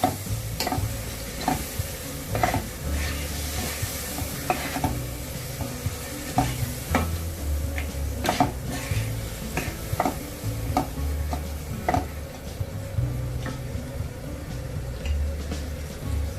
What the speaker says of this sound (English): Now mix them nicely. And let the tomatoes become soft.